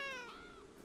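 Cat meowing in the video game Beyond Eyes, a single drawn-out meow with a gliding pitch, close and fairly clear against a quiet snowy backdrop.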